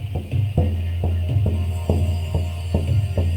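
A small 12-inch hand drum is struck in a slow, even beat, each stroke a round, deep, resonant thump close up, over a steady low hum.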